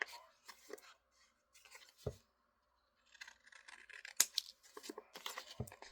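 Scissors trim a paper craft tag in short, crisp snips and scrapes. The cuts are close and intermittent, with brief pauses between them and no speech.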